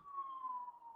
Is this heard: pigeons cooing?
no